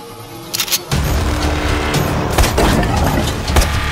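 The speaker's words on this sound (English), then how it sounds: "Combine cannon's really picking up." Heavy booming blasts of Combine cannon fire in the video game Half-Life: Alyx roll over a rumbling, noisy battle, with bursts of impact noise throughout and no clear pauses.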